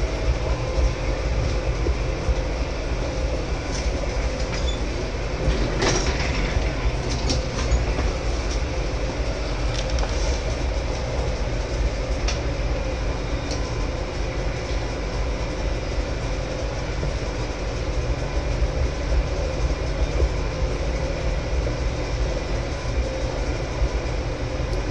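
A train rolls along the tracks in Farming Simulator 2015, a steady, loud rumble and clatter of wheels continuing without a break, with faint squeals and clicks over the top.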